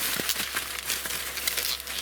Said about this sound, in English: I have the new unit here, the new brain, and I'm just gonna go ahead and unwrap it here.